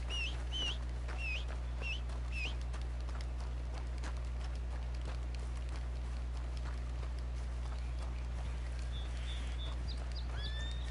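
Horse hooves clip-clop at a steady walking rhythm in Red Dead Redemption 2, set against a constant low hum with scattered bird chirps overhead and no talking.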